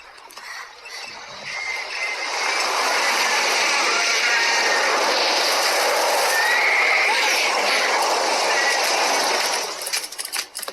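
Frightened horse neighing loudly in a stable setting, a sustained strained whinny lasting several seconds amid broad noisy texture, with some movement sounds.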